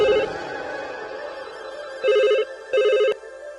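A telephone rings with an electronic warbling tone in three loud, close bursts separated by short pauses, with no talking over it.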